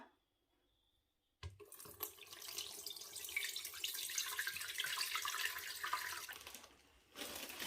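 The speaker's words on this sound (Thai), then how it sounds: "เทน้ำออกนะคะ" Water pours out of a pickling jar in a steady splashing stream after a quiet start, running for several seconds before tapering off briefly, then resuming.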